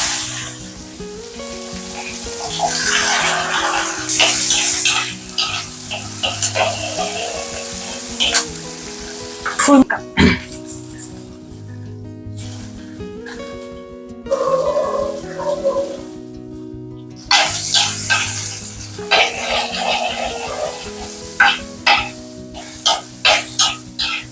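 Loud, close sizzling of small onions and chillies sautéed with salt in hot oil, bursts of crackle rising and falling as a spatula scrapes and turns them, with brief lulls.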